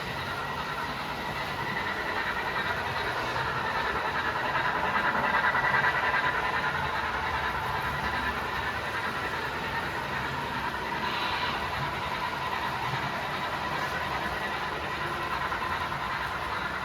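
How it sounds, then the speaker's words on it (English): A model train runs on a home layout as it comes out of a helix, giving a steady, continuous rolling rumble with a faint clicking texture and no talk over it. "the train will exit the helix, and I'll slow it back down a bit."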